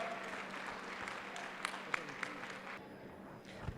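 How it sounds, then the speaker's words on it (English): An awards-ceremony crowd claps for a team walking up to the stage, a fairly distant, even wash of applause with a few sharp individual claps standing out before it thins near the end. "Let's give the Regenesis team a big round of applause as they come up."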